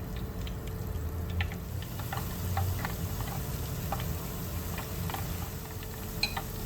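Fish tofu deep-frying in a pot of hot oil makes a steady low bubbling with scattered light crackles and pops throughout, close and without talk.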